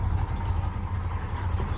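A 1969 Dodge Charger R/T engine idling very low and rough, a steady close-up rumble with a faint pulsing throb that sounds close to stalling, with no voices over it.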